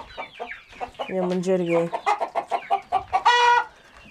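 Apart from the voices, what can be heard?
hen clucking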